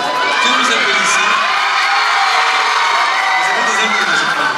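An audience at the Reine de Mèze pageant cheers, shouts and whoops, a loud, sustained crowd roar with high voices rising above it.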